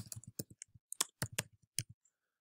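Typing on a computer keyboard, a short burst of crisp, close key clicks in an uneven rhythm lasting about two seconds against silence.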